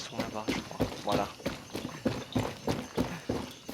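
Horse hooves clip-clop at a steady walking rhythm in the Far Cry 6 video game, with regular, fairly close hoofbeats running throughout under someone talking.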